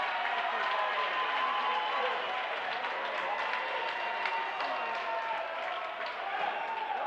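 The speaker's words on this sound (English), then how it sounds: "Boy, the crowd now is into it" A high school basketball crowd cheers and roars steadily in a gym, a dense continuous wall of voices with scattered claps, while a commentator talks over it.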